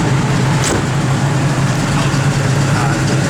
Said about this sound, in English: Blower motor.